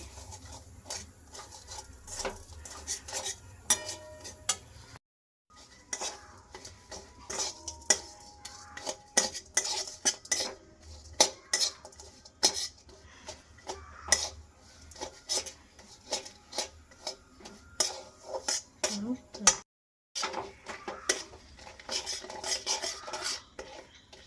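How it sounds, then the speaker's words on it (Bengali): Sugar melting in a pan for tamarind chutney, stirred with a utensil that clinks and scrapes against the metal in frequent irregular strokes over a low sizzle, close, with two short silent breaks and no talking. "চিনিটা নাড়াচাড়া করতে করতে কিন্তু অনেকটা গলে গেছে"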